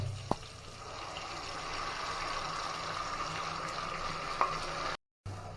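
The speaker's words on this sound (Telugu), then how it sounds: "పచ్చికారం అంతా వేగేంత వరకు తిప్పుకుంటా ఉండాలి" Green chili paste, tomatoes and onions frying in a pan while being stirred: a steady low sizzle runs throughout, with a couple of sharp utensil knocks against the pan and a brief dropout near the end.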